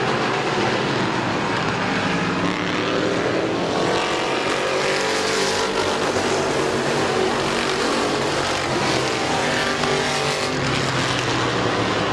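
Race cars roaring around a dirt track at a speedway, a continuous loud wall of engine noise that rises and falls as they pass, with no talking.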